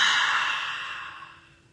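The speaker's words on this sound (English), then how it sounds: "taking a big deep breath in, holding your breath at the top for just a couple seconds, and then exhaling out of the mouth" A single long, deep breath exhaled through the mouth after being held during a breathwork session, a soft airy rush that starts fairly strong and fades steadily over nearly two seconds, with no talking.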